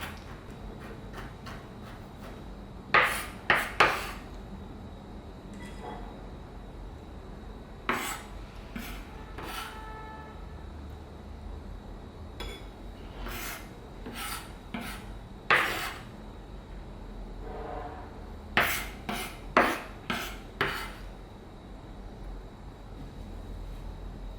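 Irregular clusters of sharp knife chops mincing cauliflower on a cutting board, bursts of quick taps separated by quieter pauses, close and fairly crisp.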